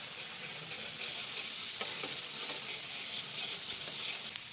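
Capsicum pieces fry in oil with mustard paste for a fish curry, a steady, dense sizzle that holds evenly throughout with no talking.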